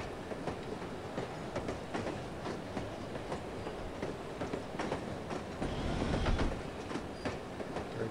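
A passenger train rides along in the video game No One Lives Forever, its wheels clacking in a loose repeating rhythm over a constant loud rumble that swells briefly near the end.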